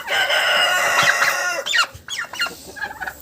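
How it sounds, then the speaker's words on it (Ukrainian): Turkey hens squawk and screech loudly up close while a tom mates on a farm, a sustained harsh chorus that breaks into shorter shrill calls, with no talk. "Коли індик покриває якусь індичку, вони починають верещати"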